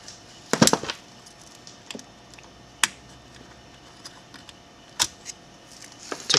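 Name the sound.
removing a screw from a controller card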